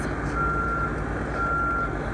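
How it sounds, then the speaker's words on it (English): A wheelchair lift on a 2007 MCI paratransit bus sounds a steady, high-pitched electronic beep in two long tones over a low idling rumble, with no talking. "We're going to start with the wheelchair lift because that's why it's beeping."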